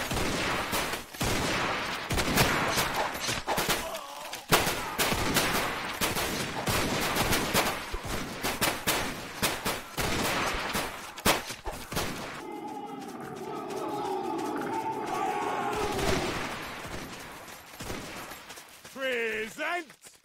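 Musket volleys crack in a Zulu wars video game, dense bursts of gunfire repeating through the first stretch, then a quieter lull with shouted commands and battlefield noise.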